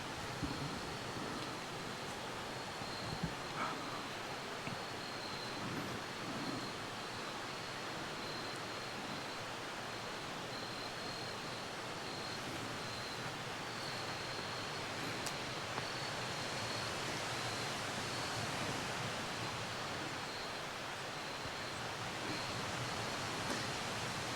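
High, swollen creek water rushing outdoors near a cabin at twilight, a steady, even hiss-like roar that holds constant for the whole stretch with no voices.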